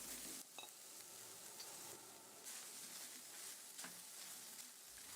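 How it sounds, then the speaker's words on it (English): Mushrooms sizzle steadily in a pan with garlic, thyme and rosemary, a continuous close frying hiss broken by occasional scrapes of a stirring utensil, with no talk. "Then add the mushrooms and continue to stir."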